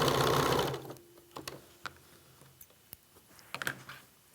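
A sewing machine stitches the last side seam of a T-shirt pillow, opening with a loud, close burst of steady running stitching that stops abruptly, followed by sparse clicks and light handling noises.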